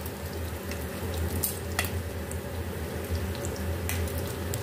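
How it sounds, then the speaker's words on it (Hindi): Shami kebabs fry in cooking oil in a pan over low heat, giving a steady, soft crackling sizzle throughout with a few brief sharper pops. "अब इसमें हमने कबाब डाल दिए और इसको हम हल्की आंच पर फ्राई कर लेंगे अच्छे से।"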